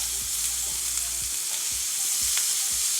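Vegetables are stirred around in hot oil in a pan, giving a steady close sizzle with soft scraping strokes roughly every half second, no voices.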